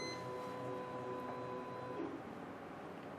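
A Focus Athena Jet Plus DTG printer moves its carriage outward, giving a faint, steady mechanical whir with thin tonal hums in a quiet room.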